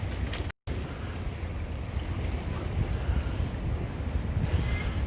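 A boat rides along Khlong Saen Saep canal in Bangkok, a constant loud rush of engine, water and wind buffeting the microphone, with a short dropout near the start.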